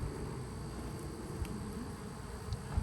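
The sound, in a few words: bee swarm buzzing on a mailbox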